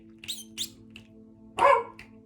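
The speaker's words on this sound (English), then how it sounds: "That means the dog's going to start barking." A dog indoors barks a few short, moderately loud times in quick succession, with a louder bark near the end and a quiet hum underneath.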